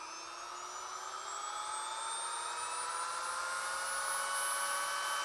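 A Vevor hand grinder rated to 40,000 RPM runs alone and close by at high speed, a steady high whine that rises slowly in pitch as it spins up, with no talk.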